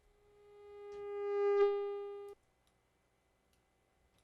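Synthesized mosquito buzzing effect: a thin, steady electronic tone swells gradually louder as if approaching, peaks, then cuts off abruptly, leaving near silence.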